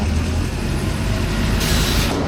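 Loud continuous rumble of a train rolling through a railway station in Howth, Ireland, with a hissing metallic swell near the end and no talking.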